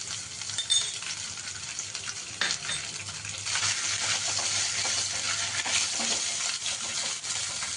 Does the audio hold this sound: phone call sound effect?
no